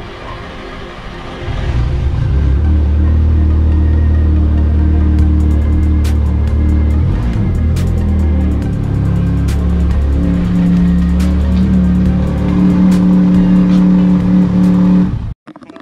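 A pressure washer bought for cleaning a lowered car runs with a loud, steady motor drone that holds almost unbroken for about fourteen seconds before cutting off abruptly.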